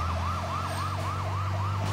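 A stolen fire engine in the game Sleeping Dogs blares its siren at close range, a rapid whooping wail cycling evenly several times over a steady low engine hum, with no voices.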